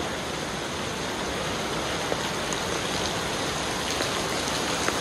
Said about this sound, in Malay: Hujan lebat. Hujan lebat kan?